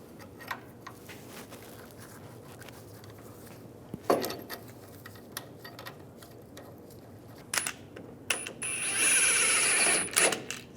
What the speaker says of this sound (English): Get the bolts started.